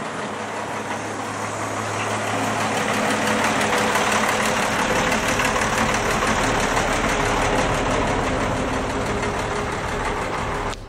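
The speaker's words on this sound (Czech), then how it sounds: "znělo to zhruba jako karosa" A Karosa city bus engine idles in Prague, a steady, loud diesel rumble with a constant low hum that holds evenly throughout, close by and without talk.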